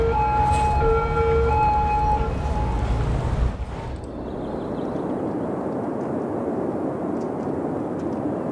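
An ambulance siren in the Cities: Skylines city-building game wails in steady tones for a few seconds, then cuts out and leaves a broad hiss of ambient city noise.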